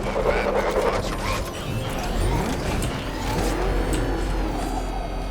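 The Batmobile's engine in Batman: Arkham Knight, a moderate car roar with rising revs and mechanical clatter, sustained over a few seconds beneath a faint game soundscape.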